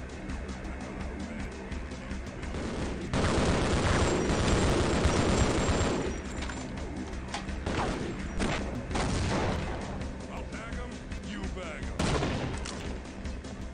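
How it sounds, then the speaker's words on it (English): An enemy blowing up in the Half-Life: Opposing Force video game, a loud burst of gunfire and explosive noise lasting several seconds, followed by further shots and blasts within a dense combat din. "Why did he explode?"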